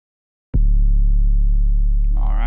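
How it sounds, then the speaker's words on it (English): A single 808 bass drum hit from preset 56 lands after a short silence, then sustains as a loud, deep booming tone that rings on steadily, with a brighter burst near the end. "The 808 sounds like this."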